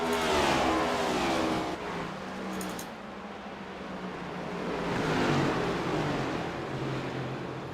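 Race car on old tyres sweeping past on an oval track during a championship round, a loud engine roar swelling near and then fading as it passes, with no talk.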